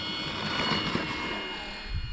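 An E-flite T-28 Trojan RC airplane, a 1.2 m naval trainer model, flies a roll at three-quarter throttle, giving a steady, fairly loud electric motor and propeller whine that swells slightly and holds throughout.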